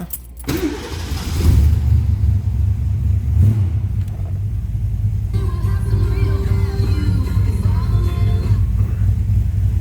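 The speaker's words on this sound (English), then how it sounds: "the 289's got a nice little rumble to it" A 1965 Ford Mustang Convertible's 289 V8 engine cranks and catches, then settles into a loud, deep, steady rumbling idle close by.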